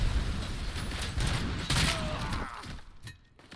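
Full-auto gunfire in the video game Robocop: Rogue City, a dense, loud continuous burst of rapid shots with crashing impacts that tapers off toward the end.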